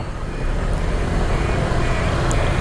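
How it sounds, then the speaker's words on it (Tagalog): Busy Friday road traffic rolls by as a loud, steady roar of cars and trucks, with a constant low engine rumble and no talk. "Asahan mo ng matraffic."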